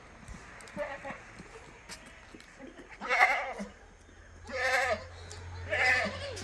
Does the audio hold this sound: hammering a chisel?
no